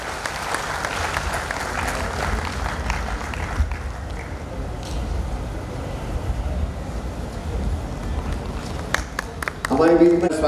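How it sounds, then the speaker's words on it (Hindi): Loud crowd applause at a Maharana Pratap Jayanti procession welcome in Udaipur, a dense continuous clapping wash with announcer speech over it and a louder burst near the end. "जोरदार तालियां होनी चाहिए।"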